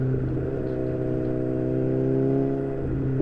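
A BMW S1000XR motorcycle fitted with Black Widow decat exhaust headers idles close by, giving a loud, steady, deep engine rumble with a slight lumpy pulse and no talking.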